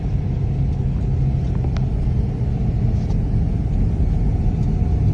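A car engine hums low and steady while driving over a rough dirt road, with a continuous rumble and faint knocks and rattles from the uneven surface throughout.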